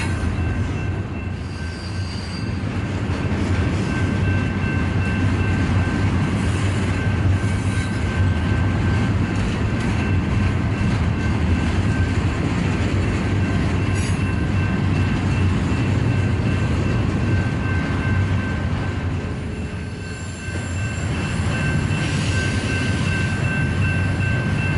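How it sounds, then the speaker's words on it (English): An eastbound double-stack freight train rolls past the Lugo signals with a loud, steady rumble of railcars and a faint high wheel squeal throughout, the roar dipping near the end as it passes. "an eastbound stack train passing the Lugo signals is visible. It's obvious we're about to see a train meet"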